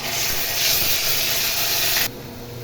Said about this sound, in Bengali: তেলটা গরম হয়ে গেছে এবার দিয়ে দিব পেঁয়াজ রসুন বাটা